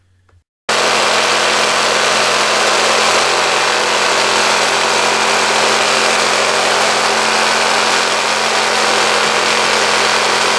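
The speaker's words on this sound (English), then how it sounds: "take your brass polisher for reloading and turn it into a rock polisher" Frankford Arsenal vibratory brass polisher switched on and run as a rock polisher, starting abruptly after a short quiet moment and then holding a loud, constant motor hum and rattling buzz.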